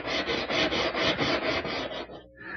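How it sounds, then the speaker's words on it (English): Portable oscillating spindle sander truing up a wooden edge, a steady rasping abrasive rub with a faint rhythmic pulsing, close and continuous for about two seconds before a short drop and restart. "I'm using this portable oscillating spindle sander"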